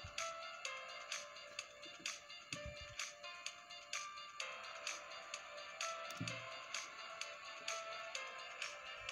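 A song plays through a small amplifier circuit built around a BC547 transistor, a thin, tinny music signal with a regular beat that carries on steadily without any talk.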